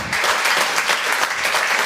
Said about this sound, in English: let's give a big round of applause to Erin Pete and Carrielynn Victor